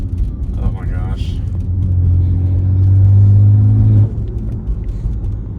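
BMW X3M with a T51R exhaust mod revving hard, a loud sustained engine roar that builds for about two seconds before cutting off, with a person talking briefly over it at the start.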